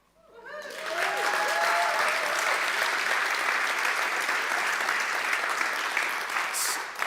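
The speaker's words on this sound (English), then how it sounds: "Let's give them a big round of applause." Audience applause at a TEDx event, swelling quickly into loud sustained clapping from a large crowd that holds steady for several seconds before easing.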